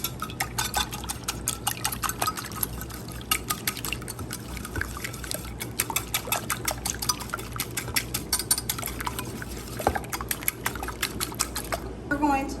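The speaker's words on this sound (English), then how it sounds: "All right, we're going to do about 3 eggs because we've got 3 sandwiches here. I'm going to whisk things." Three eggs whisked in a bowl for fried ham and cheese sandwiches, giving a fast, steady stream of light clicking and liquid sloshing that runs throughout at moderate loudness.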